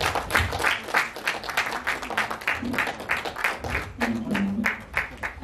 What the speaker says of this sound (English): With a hands of applause, let's welcome Danielle